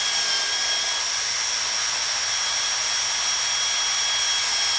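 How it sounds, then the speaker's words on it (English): A drill with a step bit cutting a hole in the side of a plastic 1973-87 Chevy/GMC tail light lens, a steady high whine held throughout at close range. "So with a step bit and a drill, just punch your little hole here in the side."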